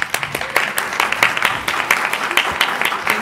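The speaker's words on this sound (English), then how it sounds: "let's give him a round of applause" A town hall audience breaks into a round of applause for a congressman, steady dense clapping from many hands filling the room at close range with no voices.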